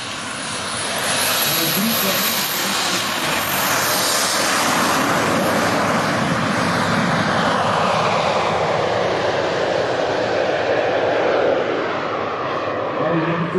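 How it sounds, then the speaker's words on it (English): Steady loud roaring engine of a 33-foot radio-controlled model plane built to resemble a Concorde, flying past in one sustained, broadband roar that swells in and holds throughout. "This 33-foot RC plane resembling a Concorde is the most powerful RC plane ever."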